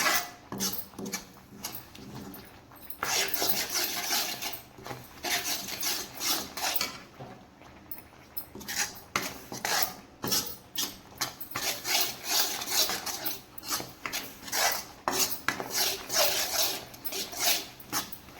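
Mung dal laddu mixture stirred in a pan over a low flame, a steady scraping and rasping of a spoon against the pan that comes in repeated bursts with short pauses, close and fairly loud, with no talking.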